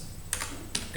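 Typing on a computer keyboard while building an Excel dashboard: two or three quick, close key clicks over a low background hum.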